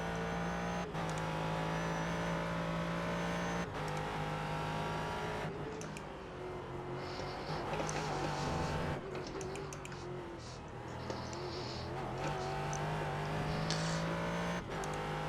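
GT race car engine in the iRacing sim revving and accelerating through gear changes, steady loud drone with sharp shift breaks, faint keyboard-like clicks underneath.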